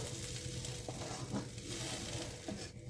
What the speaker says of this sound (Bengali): সব ভালোভাবে একসাথে মিশিয়ে দিয়েছি